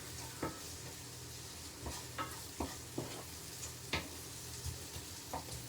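Tomatoes and onions frying in smoked bacon fat give a steady, close hiss of sizzling, broken by a regular series of soft scrapes and taps from stirring in the pan.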